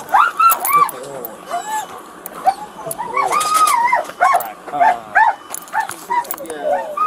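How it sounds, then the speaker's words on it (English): A police K9 dog barks, yips and whines excitedly in rapid, uneven bursts, loud and close, with voices in the background. "Dog."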